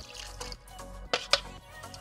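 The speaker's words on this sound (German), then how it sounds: "Dann gieße ich unsere Brühe, Senf und Creme Fraiche Mischung drüber." A mixture of broth, mustard and crème fraîche is poured over a kale and potato gratin, making soft, close liquid splashes and drips with a couple of sharper spatters near the middle.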